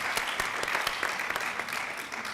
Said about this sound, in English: Let's give a round of applause also for Tanya McCoy.